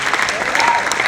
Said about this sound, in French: encourageons-la avec beaucoup d'applaudissements